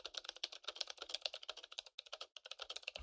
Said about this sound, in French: ils tapent quoi sur le clavier?